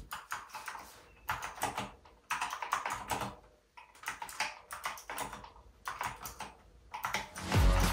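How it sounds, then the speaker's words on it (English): Typing on a mechanical keyboard fitted with clicky Temu Blue switches, with bursts of rapid, crisp clicking keystrokes separated by short pauses, fairly quiet and close, with no voices. "I chose to go with our Temu Blue switches, which are clicky"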